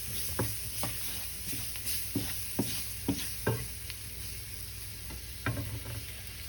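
Ingredients sauté and caramelize in a pot for a vegan coconut chickpea curry, giving a soft, continuous sizzle punctuated by a series of sharp spoon taps and scrapes against the pot at irregular intervals.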